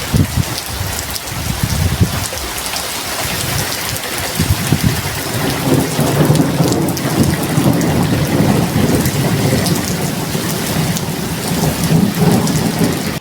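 Heavy rain pours steadily during a thunderstorm, with deep rolling thunder rumbling throughout, loud and continuous with no voices.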